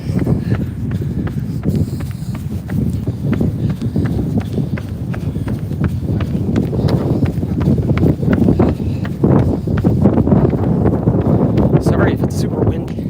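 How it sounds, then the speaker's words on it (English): Rough, gusty wind buffets the microphone throughout during a run at the University of Maryland, College Park, mixed with steady running footsteps. "Sorry if it's super windy."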